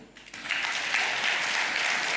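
Senators and senatrices in a legislative chamber break into applause that swells quickly and holds as a dense, steady clapping, moderately distant, with no voices over it.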